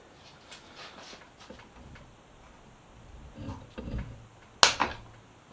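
Tight bolts on a Yamaha FZ6R triple tree being loosened: faint creaks and light ticking, then one sharp, loud crack near the end as a bolt gives, followed by a short rattle. No one speaks.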